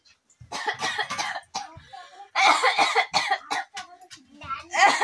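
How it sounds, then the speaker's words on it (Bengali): A person coughs several times in bursts while singing, the dry coughs close and loud, mixed in among sung and spoken phrases. "গান গেতে গেতে কাশি এসে বললো"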